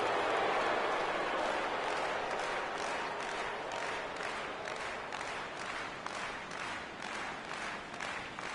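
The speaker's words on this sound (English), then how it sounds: "with the crowd still buzzing over the grand slam" A crowd at a Pirates vs. Cardinals baseball game in St. Louis in July 2014 keeps roaring and clapping after a grand slam, a steady distant wash of cheers and applause that slowly fades.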